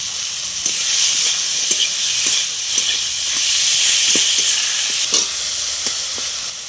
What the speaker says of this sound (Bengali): মশলাটা কষা হয়ে গেছে আলুটা দিয়ে দিলাম